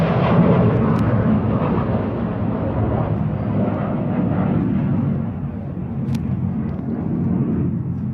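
An airplane passes overhead, a loud broad engine rumble that holds steady for several seconds before slowly easing, heard alone without talk.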